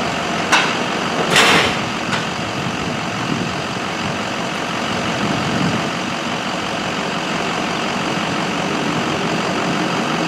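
An in-ground vehicle lift raises a Crown Victoria in a shop, giving off a steady loud mechanical drone with a few sharp clanks near the start and no talking.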